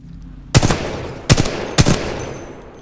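Three sharp, loud gunshots at uneven intervals, each with a brief ringing tail, from a weapon fired at a shooting range in the video game Titanfall 2.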